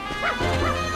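A dog in the video game Dragon Quest Builders 2 gives a short two-part yipping bark, close and clear, lasting about a second with no talk over it.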